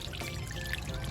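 A small waterfall built from gravel in a fish tank pours steadily, a close, continuous splashing trickle with no talking.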